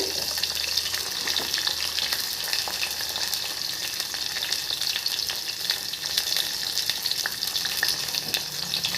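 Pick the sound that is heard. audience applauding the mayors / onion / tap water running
onion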